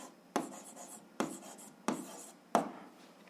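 Pen scratching across paper during an algebra exercise, four short firm strokes spaced about a second apart, each with a sharp onset fading into a soft scribble, close and fairly quiet with no talk.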